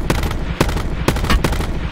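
Gunfire in Call of Duty: Black Ops 4 Blackout mode, with a few sharp, loud shots spaced through a steady rumbling game background.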